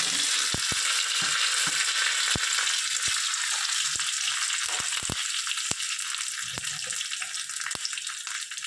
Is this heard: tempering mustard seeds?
yes